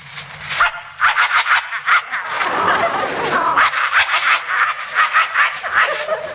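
A voice actor growls and snarls in imitation of a vicious dog, a continuous rough rumbling broken by harsh bark-like bursts, loud and close with no other sound.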